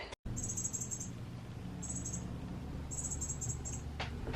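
High, thin chirping in short bursts, three clusters of rapid peeps over a quiet room background.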